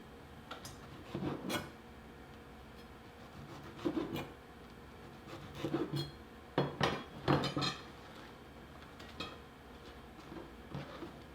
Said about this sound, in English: I'm just going to place these in a large bowl